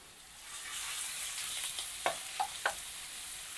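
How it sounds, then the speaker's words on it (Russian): Ginger fries in a pan with a soft, continuous sizzle, and a few light spatula scrapes and taps rise above the hiss near the end. "Обжариваем имбирь."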